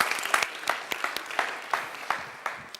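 An audience gives another round of applause for a speaker after her talk, with a handful of distinct, spaced-out claps, moderately close and sparse rather than a full ovation.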